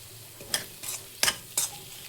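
Spices being stirred into mutton keema in a hot pan, four distinct scraping strokes of a spoon against the pan at close range over a soft sizzle, with no talking.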